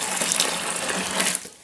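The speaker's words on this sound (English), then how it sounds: "We just put some boiling water in there to rinse the can out." Boiling water gushes and splashes into a homebrew beer kit can to rinse it out, a loud, close rush of pouring that tapers off near the end.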